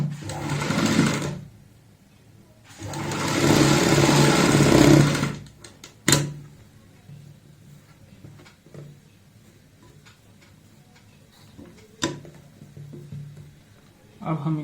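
A sewing machine stitches a kurta flap in two loud runs, one short and one longer, separated by pauses with light handling clicks and faint background noise.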